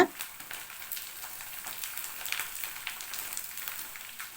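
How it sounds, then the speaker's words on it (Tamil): Dried onion vadam crisping in hot oil over a medium flame, a soft continuous crackling fry with scattered small pops, fairly quiet and alone. "இப்போது நல்லா பொறிஞ்சு எவ்வளோ பெருசாக ஆகுது பாருங்கள்"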